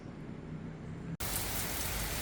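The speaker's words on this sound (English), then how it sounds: "Yucatan rain, man. It has almost filled up this pool" Heavy Yucatan rain pours steadily into a nearly full outdoor pool, a dense continuous hiss of drops that briefly drops out and then returns louder and closer.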